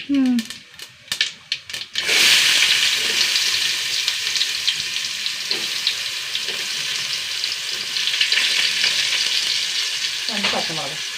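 Sliced onions and fennel seeds drop into hot oil in a pan and start a loud, steady sizzle that runs close and continuous, with occasional stirring clinks and brief talk at the start.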